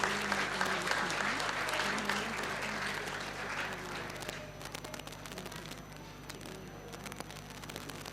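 Sustained audience applause at an Agrasen Jayanti community gathering in Latur, a dense steady clapping of many hands that thins and softens toward the end.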